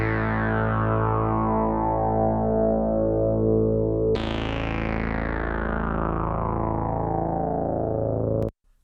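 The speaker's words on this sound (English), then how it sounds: "Anyone who knows Moogs will know the like classic sound of the filter" Two sustained notes from a Moog-style synthesizer, a Universal Audio Minimoog plugin, with its classic filter sweeping down, bright and buzzy, the second note restarting the sweep before cutting off abruptly.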